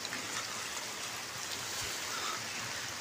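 Steady heavy rain pours over a building construction site, a dense, even hiss with no let-up across three seconds, fairly loud and close.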